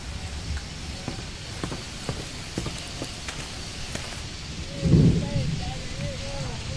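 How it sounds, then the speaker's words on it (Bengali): Steady rain falls in a deep Papua rainforest, with scattered drops tapping nearby and a low roll of thunder rumbling up midway before easing back under the constant downpour. "বৃষ্টি পড়ছে"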